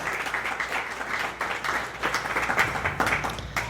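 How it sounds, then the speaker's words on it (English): Audience applause for mountain race athletes at a Barr Trail Mountain Race elite panel, a dense, continuous round of clapping from many hands, fairly loud and sustained for several seconds. "let's give a big round of applause for these athletes that are going to be competing on Sunday"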